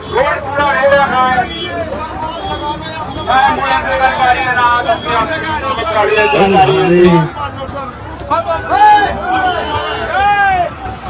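Crowd babble at a busy shop set up along a roadside path, many overlapping voices in a steady hubbub with a nearby voice rising above it at times and faint traffic underneath.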